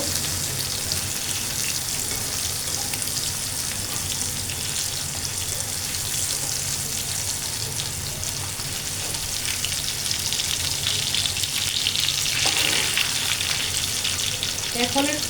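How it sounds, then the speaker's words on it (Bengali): Hilsa fish fry in hot mustard oil, a close, steady sizzle with a brief clatter and scrape as the pieces are turned partway through. "আমি মাছগুলো কাঁচাগুলো উল্টায় দেবো"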